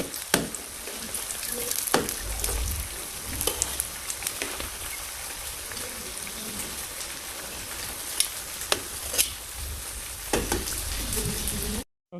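Whole-wheat flour biscuits cook in a pan on the stove with a soft, steady sizzle, broken by several sharp clicks and taps as they are handled, quiet and close with no talk.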